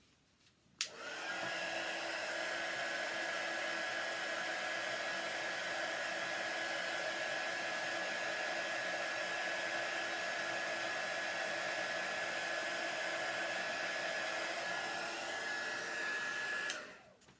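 A hair dryer runs steadily at close range for about sixteen seconds, drying chalk transfer paste through a stencil, with a constant whooshing airflow and a thin high whine, then clicks off.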